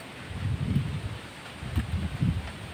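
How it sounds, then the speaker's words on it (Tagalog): Strong wind buffets the microphone in gusty low rumbles on a hilltop paragliding trail, rising and falling in waves, with no voices. "Lakas ng hangin."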